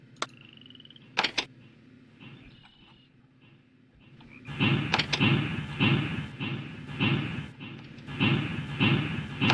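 Wooden train moving in the 3-D Ultra Train Town video game, a rhythmic chugging and rattling that starts after a quiet stretch with a few clicks and then runs steadily and fairly loud to the end.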